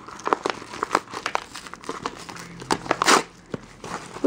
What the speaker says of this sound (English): Let's see if I can tear it from here.